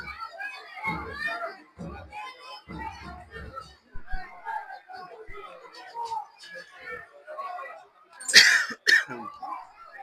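Coughs and throat clearing in a football commentary booth during a Guaraní vs. River Plate match, with a few harsh bursts near the start and a loud double cough toward the end, mixed with ongoing talk.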